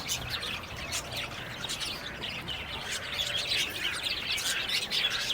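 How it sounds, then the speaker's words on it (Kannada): Pet budgies in an aviary at a pet house chirp in a dense, busy chorus of quick high tweets and squawks, near and continuous, with no talk. "ಇದು ಆ್ಯಕ್ಚುಲಿ ಬಜ್ಜೀಸ್ ಅಂತ ಕರೆಯೋದು"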